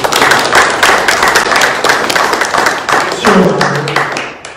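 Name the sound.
audience applause for panel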